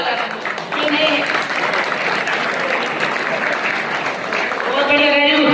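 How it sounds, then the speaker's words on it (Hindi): Loud, dense applause from a seminar audience welcoming new members, steady clapping filling the room for several seconds, with voices audible over it. "आपके लिए जोरदार ताली होनी चाहिए।"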